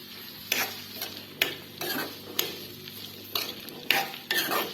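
Ivy gourd (kovakkai) is stirred as it fries in a pan: a spoon scrapes through it in repeated sweeps about every half second over a steady sizzle, close and clear, with no voices.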